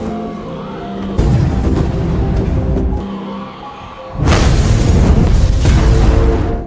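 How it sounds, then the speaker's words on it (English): A barrel of methane fuel explodes in a zombie TV show, heard as heavy booming blasts with a roaring, crackling rumble that cuts off, resumes and then swells into a louder, sustained burst. "A massive explosion followed shortly."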